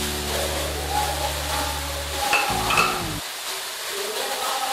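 Chicken, peas, capsicum and cabbage sizzle in a pan while they are stir-fried for noodles: steady frying with stirring scrapes and a low hum beneath.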